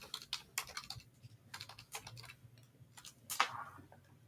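Quiet, close typing on a computer keyboard, irregular clusters of soft clicking keystrokes with short pauses between them and no talking.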